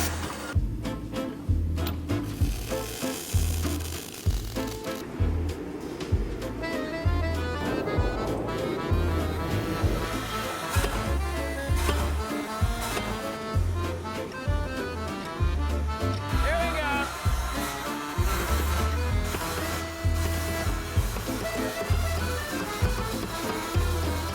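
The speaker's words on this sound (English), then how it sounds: "Now I'm going to cut these two, once in the middle to make it 4" A razor blade Damascus billet being cut through the middle, heard as a repeated rhythmic grinding or sawing pulse, close and fairly loud, with an irregular mechanical whine over it and no talk.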